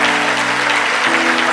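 A church congregation claps and cheers together for the Lord, a dense, continuous wave of applause, loud and close, with no speech over it.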